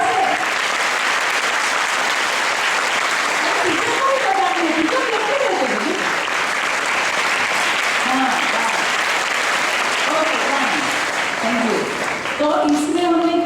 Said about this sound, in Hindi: दो हाथों को ऐसा जोर से टैप किया, यानी दो का घर्षण हुआ और आवाज उत्पन्न हुई